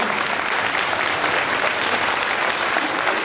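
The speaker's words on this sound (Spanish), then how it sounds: "Más fuerte el aplauso." Loud, dense, continuous applause from an audience fills the whole stretch at a ceremony handing out support to small businesses, with no talking over it.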